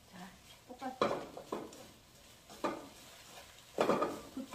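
Garlic chives stir-fry with meat and salt in a pan, and a utensil scrapes and tosses them in several separate bursts between quieter gaps. The sound is close and moderately soft, with no clear talking.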